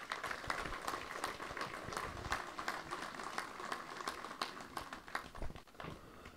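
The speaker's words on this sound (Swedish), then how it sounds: "Ge dem en stor applåd" A crowd gives a team a big round of applause at a pike fishing championship weigh-in on Lake Åsunden. The clapping is steady and moderately distant and lasts several seconds without talk.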